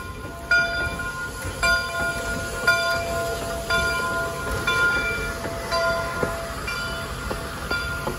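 A train rumbles steadily past at close range over the Murano Avenue crossing on the Kettle Valley Steam Railway, with the rhythmic clatter of wheels over the crossing and a high bell-like ringing repeating throughout.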